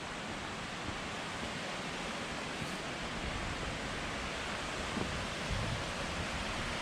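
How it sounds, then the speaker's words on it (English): A large waterfall on the east side of the Olympic Peninsula, Washington, pours down in a steady, dense roar of rushing water, even and close throughout with no voices. "Big falls are up here."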